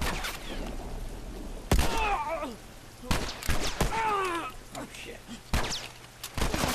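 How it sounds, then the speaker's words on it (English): Machine gun fire in The Last of Us, sharp bursts of gunshots cracking at intervals amid groans and scuffling, with a player talking between shots. "There's a machine gun after me."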